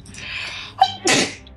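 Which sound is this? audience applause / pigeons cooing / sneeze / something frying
sneeze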